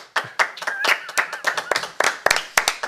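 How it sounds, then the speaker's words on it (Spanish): Studio audience clapping on a Spanish basketball chat show, a short burst of separate sharp claps from a small crowd, close and lively, with faint voices mixed in. "¿Podéis aplaudir el público un momento?"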